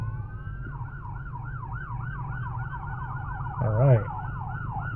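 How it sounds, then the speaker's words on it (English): A police car or ambulance siren wails in a steady rising-and-falling pattern, fairly close and sustained, over low road rumble, with a brief spoken remark near the end. "Ooh, cop car coming or something, or an ambulance"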